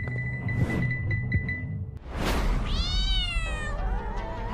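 A cat demon in an animated horror series gives a loud, drawn-out meow with a rising then falling pitch, after a short stretch of quieter creaking and tapping.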